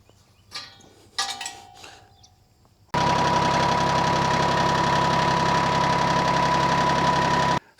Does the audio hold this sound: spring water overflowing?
no